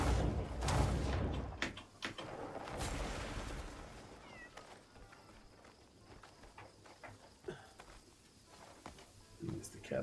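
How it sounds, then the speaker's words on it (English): A cat meows a few times in the video game Crimson Desert, short, soft calls that sit under someone talking, with thumps and muffled background game sounds. "There's the cat up here."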